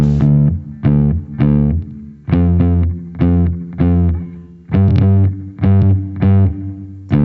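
A distorted electric guitar with heavy hall reverb plays a series of plucked notes and chords, each ringing out and trailing off in a long, spacious wash.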